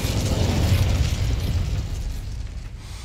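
The Incendio fire spell in Hogwarts Legacy lets out a loud, rumbling whoosh of flame that swells early and fades out over a few seconds.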